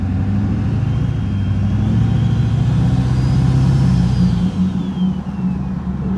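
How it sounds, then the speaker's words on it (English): An LB7 Duramax diesel truck accelerates gently with loud, steady engine drone and a faint rising turbo whistle over it, heard from inside the cab with no talking. "There's a lot of turbo noise just even barely getting into it."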